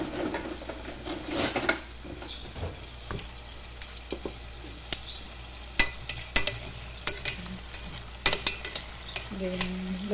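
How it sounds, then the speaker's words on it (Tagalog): Potatoes frying in a pan for a chicken lunch, a low steady sizzle under scattered clinks and scrapes of a utensil stirring against the pan, close up with no talking. "Piniprito ko yung potato."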